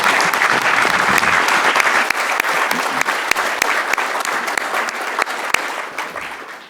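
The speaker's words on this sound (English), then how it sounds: "Let's give them a round of applause." Audience applause at the close of a panel discussion on nuclear energy, a dense, steady wash of many hands clapping with scattered sharper claps, continuing throughout without speech.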